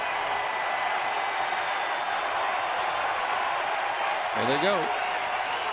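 A baseball stadium crowd of 38,000 at a Miami at Philadelphia game keeps up a steady, loud roar throughout, with a swell near the end, under a commentator's voice.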